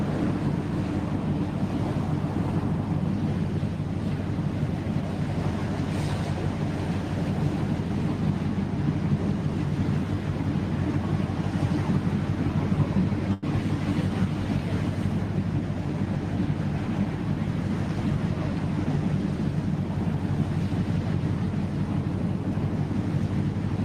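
A low, steady engine rumble and thruster drone from the container ship MSC Rosa M arriving at Felixstowe port, heard from a distance under constant wind and water noise with no talking.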